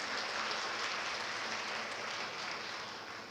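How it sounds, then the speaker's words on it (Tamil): An audience at a comedy speech event bursts into strong, sustained applause, a dense wash of clapping that stays loud and slowly eases off near the end. "ஒரு நல்ல பலமான கைத்தட்டு கொடுக்கலாம்"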